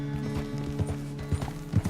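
Horse hooves clip-clop in a steady rhythm in the video game Red Dead Redemption 2, layered over a constant low tonal hum with no voices.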